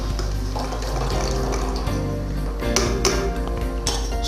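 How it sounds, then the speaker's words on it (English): Boiled chicken strained over a sink, water pouring and splashing steadily through a colander, close and fairly loud, with a few metallic taps near the end. "Strain the chicken."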